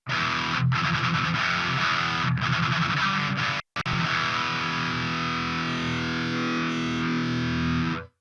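A heavily distorted metal electric guitar runs through an HM-2 style pedal plugin. It plays loud and thick, holds chunky riffing, then cuts off briefly and rings out in one sustained chord.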